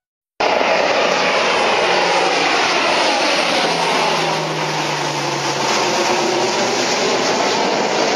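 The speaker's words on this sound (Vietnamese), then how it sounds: "Military aircraft." Military aircraft engine roaring loud and steady throughout, a dense continuous drone that holds almost unchanged from start to finish with no voices.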